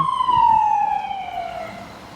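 An ambulance siren sweeps past on a Brooklyn street, its steady wail loud at first and then falling in pitch and fading as the vehicle moves away, with faint traffic rumble underneath.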